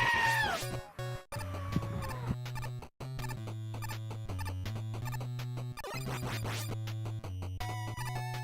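A screaming goat sound effect blares loudly, with shrill bleating cries repeated over a busy, cluttered musical backdrop.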